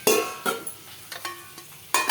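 Two potatoes frying in a pan while being stirred, steady sizzling broken by repeated sharp scrapes of a utensil against the pan, close and fairly loud.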